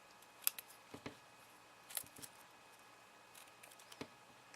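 Scissors make a few sharp, separate snips while trimming the edges of paper leaves for a faux stencil craft, quiet and close with brief pauses between cuts.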